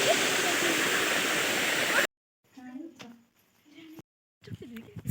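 A waterfall roars loud and steady for two seconds, a continuous broadband rush of falling water, before it cuts away to a quieter stretch where people talk.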